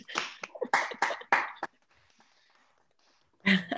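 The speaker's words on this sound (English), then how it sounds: "Let's see what happens when we all unmute and clap really loud for Kelly." Webinar participants unmute and clap loudly together: a burst of sharp, crisp claps over about a second and a half, a near-silent gap, then another loud burst of clapping.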